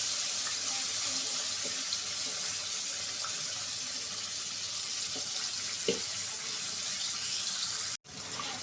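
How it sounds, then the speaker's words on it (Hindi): Water is poured into a cooking masala of yogurt and blended onion for Pakistani aloo matar gosht, making a steady, hissing rush of flowing liquid that runs evenly for several seconds and then stops abruptly. "अब इसके अंदर हम थोड़ा सा पानी डालेंगे"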